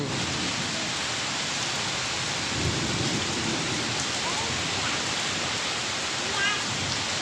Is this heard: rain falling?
yes